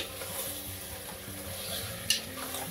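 Beef pieces for beef parche are stirred in a hot pan over high flame, a steady close sizzle with soft scraping and one sharp utensil clink near the end.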